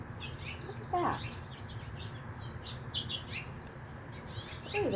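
Baby birds in a ground nest giving a few scattered high chirps and tweets over steady low background noise, faint and brief, with a soft flutter near the start.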